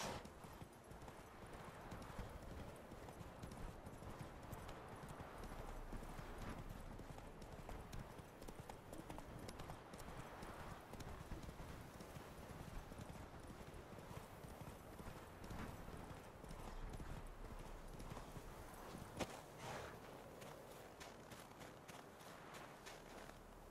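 Roach the horse from The Witcher 3 clip-clops along at a steady walk, hoofbeats soft and continuous under a faint ambient wash, with no voices.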